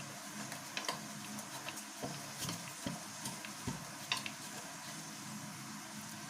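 Eba made from gari is being mixed, a run of soft sticky slaps and taps from a utensil working the dough, irregular in rhythm, close and fairly quiet, with no talk.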